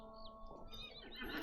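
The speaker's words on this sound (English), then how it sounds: "This one's just basic horse." A horse neighs in the Lord of the Rings Online (LOTRO) video game, a single close, fairly loud whinny with a rising and falling pitch over a steady in-game background hum.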